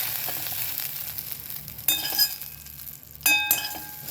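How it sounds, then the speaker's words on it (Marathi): Onion fries in ghee with a low, steady sizzle, broken by two bright metallic clinks of a utensil against the pan. "त्याच्यामध्ये आपला कांदा फ्राय करून घेऊ"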